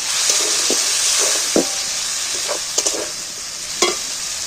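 Cut potatoes stirred into a hot pan with chicken mince, giving a steady loud sizzle and frying hiss throughout, broken by several soft scraping knocks of the spoon against the pan.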